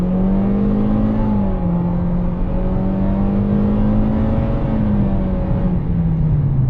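A 2025 Toyota Corolla FX sedan with 169 horsepower accelerating hard, its engine giving a steady, loud droning hum that climbs and settles in pitch, heard from inside the cabin with no talk.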